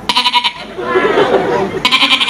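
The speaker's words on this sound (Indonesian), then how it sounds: "Kalau suaranya ke atas itu anak kambing" A goat bleats several times in close, loud, wavering calls, with a short rhythmic burst, a longer drawn-out bleat, then another quick pulsing burst at the end, with no clear talk over it.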